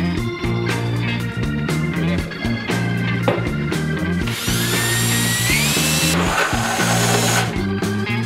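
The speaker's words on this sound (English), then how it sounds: "That is a cool drill bit." A power drill whirs steadily and loudly, its pitch rising as it bites in, with a brief higher-pitched grinding stretch midway.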